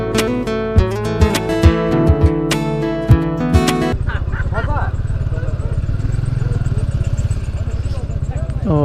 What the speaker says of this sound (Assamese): খোজকাঢ়ি যাবলৈ মন নাই তো বাইকখন লৈয়ে গৈ আছোঁ